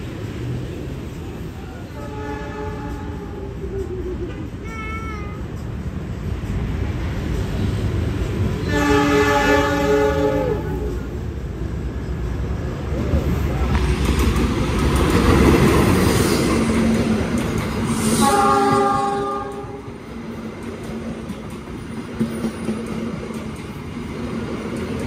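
Jayabaya passenger train of new-generation stainless steel economy and executive cars built by Inka enters a station, with several loud horn blasts over a rising, rumbling roll of wheels and cars.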